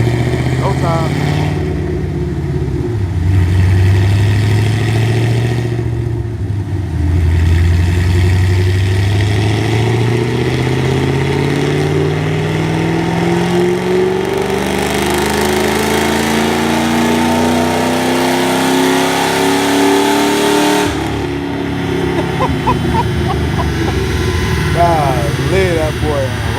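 Ford Mustang GT on an E85 tune, its V8 engine idling roughly and revving up and down in long sweeps. Close and loud, with someone talking over it at times.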